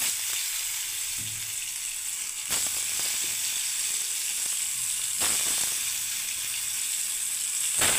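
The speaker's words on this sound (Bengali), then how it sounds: "ব্যাস এবার আমি ভেজে দিচ্ছি" Kundri, potato and onion fry in a pan with a steady, close sizzle and hiss, broken by two brief louder bursts of crackle as the pieces are moved.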